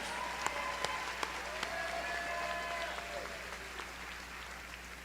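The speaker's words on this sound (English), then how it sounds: "how about a big round of applause, 2022 graduates, for these teachers" A graduation ceremony audience applauds the teachers, steady clapping that is fairly faint and distant, with a few sharper nearby claps standing out.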